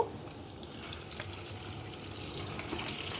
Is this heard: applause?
no